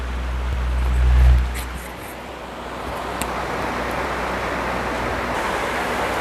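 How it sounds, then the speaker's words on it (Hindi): Steady broadband wind rush with a low rumble swelling near the start, then a constant airy hiss throughout. "ये तो हवा की आवाज़ है।"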